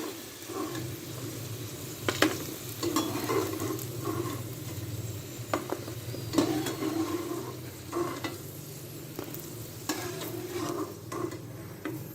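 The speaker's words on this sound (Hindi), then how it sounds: "अरबी जो है वो फ्राई हो गई है।" Taro root (arvi) pieces frying in hot oil give a steady, close sizzle, with a few sharper scrapes and stirring knocks from a utensil in the pan.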